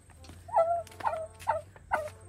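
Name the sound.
turkey gobbling, grandfather's turkey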